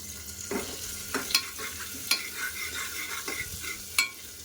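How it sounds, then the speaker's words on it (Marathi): Chopped chilli, ginger and garlic sauté in a pan for sambar. A steady soft sizzle runs under repeated scraping strokes of a spatula stirring the pan. "आलं आणि लसूण टाकूया. मग ते छानपैकी परतून घेऊ."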